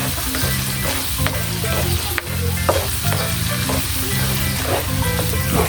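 Tomatoes get stirred in a sizzling frying pan, a loud close crackle of hot oil with repeated scraping strokes of a utensil against the pan, and no talking.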